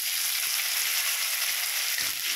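Mashed potato fries briefly in a pan, giving a steady, close hiss of sizzling oil without breaks or voices.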